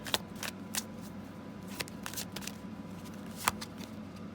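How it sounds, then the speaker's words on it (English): A tarot deck is shuffled close up, its cards riffling and slapping together in quick irregular bursts over a soft steady background, with no voices. "he was at the bottom of the deck before I started shuffling."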